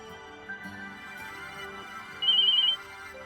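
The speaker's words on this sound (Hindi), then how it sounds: "इतनी रात को किसका फोन है?" A phone rings with a short electronic ringtone burst, moderately loud over a soft background hum with music.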